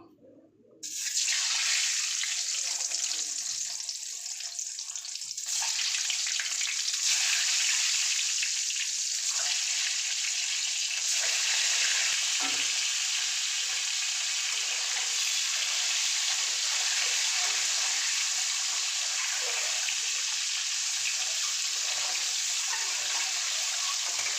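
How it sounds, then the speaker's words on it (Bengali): Eggs fry in hot oil with yellow turmeric in the pan, a loud continuous sizzle and crackle that starts abruptly and holds steady throughout, close up with no talking. "ডিমগুলোকে ভেজে নেবো"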